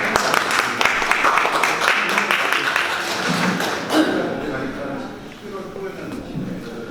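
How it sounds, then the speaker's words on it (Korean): An audience at a lecture on industrial property rights applauds to welcome a patent attorney, with dense clapping for several seconds. It thins out and fades as the room settles, with some voices and shuffling near the end. "큰 박수로 환영 부탁드립니다."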